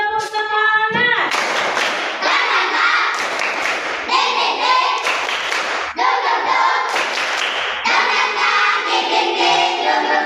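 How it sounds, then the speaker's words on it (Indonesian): Schoolchildren perform a 'tepuk semangat' spirit clap in a classroom lesson. Loud bursts of group clapping are punctuated by chanted voices, falling into short rhythmic phrases separated by brief pauses. "satu kali tepuk semangat"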